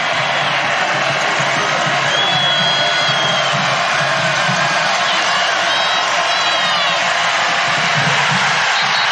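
Stadium crowd at a Marshall versus Bowling Green college football game roars steadily, a dense sustained cheer with scattered whoops and shouts filling the whole stretch, loud and continuous.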